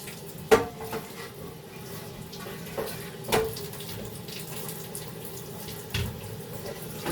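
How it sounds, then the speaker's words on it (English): A cooking pot being rinsed under a running kitchen tap, a steady soft stream of water with occasional clanks and knocks of the pot against the sink, fairly quiet and close. "rinse this pot out"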